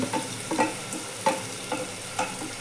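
Dry spices, including turmeric, red chilli powder and cumin powder, roast in a hot pan for chole masala, with a steady close sizzle broken by several soft, regular scrapes of the stirring spoon.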